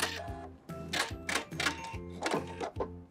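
Sewing machine running a short back stitch on a straight seam: rapid, close, rhythmic mechanical clatter in repeated bursts with brief pauses, ending with a snip as the thread is cut.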